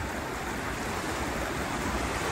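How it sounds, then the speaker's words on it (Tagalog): Strong rushing water during a typhoon roars as a dense, unbroken wash of noise, loud and close, with no voices over it. "Grabe yung agos dito."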